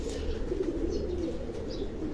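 Pigeons on a rooftop loft coo in a soft, steady murmur, with faint chirps and flutters over a constant low background hum.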